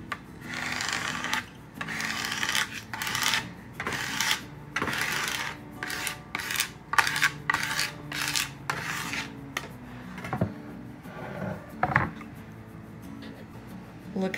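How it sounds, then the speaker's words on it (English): A credit card is rubbed firmly over a decal on thrifted farmhouse-style home decor. It gives repeated close scraping swipes in an uneven rhythm with short pauses, and a few light taps near the end. "I'm just gonna go over it one more time with my credit card to make sure it's all down"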